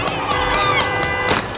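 A crowd in a chaotic street confrontation with police in Anaheim, dense overlapping shouts and cries filling the whole stretch at a steady loud level.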